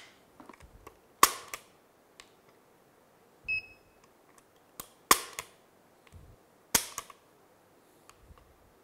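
Sharp dry-fire clicks from an unloaded Tanfoglio Stock III Pro 9x19 pistol, single loud snaps spaced a second or more apart, with a brief electronic beep from a trigger gauge and quiet handling noises between.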